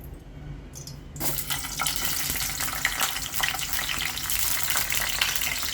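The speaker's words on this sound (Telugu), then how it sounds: "ఇప్పుడు ఈ దొండకాయలు ఇందులో వేపుకుందాం" Chopped tindora (ivy gourd) sizzles in hot oil in a pan, with a dense, steady frying hiss that jumps up loudly as the vegetables go in and stays close and continuous.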